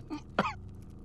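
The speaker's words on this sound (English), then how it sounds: "I brought you something for that cough." A game character in Deus Ex coughs, a short rough throat-clearing burst followed by a sharper single cough, close and fairly quiet over a low background hum.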